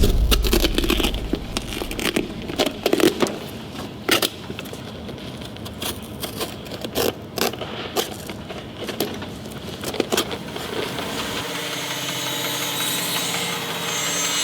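A pair of Timberland boots being cut in half by a power tool, with a steady engine-like drone under rapid tearing and crunching bursts of cutting through leather and sole, close and loud.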